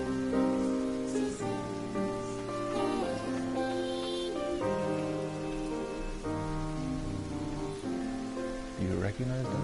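Rain falling in the video game Ender Lilies, a steady wash that runs under prominent melodic music with sustained tones throughout.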